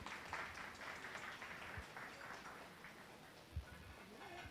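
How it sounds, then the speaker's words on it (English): Applause at a sponsored startup-ecosystem talk sounds faint and distant, a soft patter of clapping that sounds almost like rain, with no speech over it. "So round of applause for Carla."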